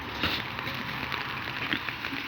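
Light rain begins to fall outdoors on an evening, a soft, continuous patter of scattered drops on surfaces, gentle and close, with no talking.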